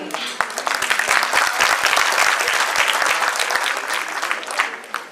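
An audience at a school annual function bursts into loud, sustained applause, many hands clapping densely together for several seconds.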